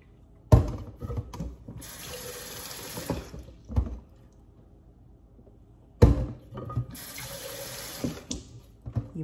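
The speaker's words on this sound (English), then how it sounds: "fill it up with room temperature water" Tap water runs into a container being refilled with room-temperature water for potted bitterleaf plants, two strong bursts of filling each lasting a few seconds, close and fairly loud, with clunks and pauses between.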